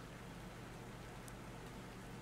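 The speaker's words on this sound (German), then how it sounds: "Regen, wundervoll." Rain falls steadily in the video game ARK Survival Evolved, a faint, even hiss of drops with no talk over it.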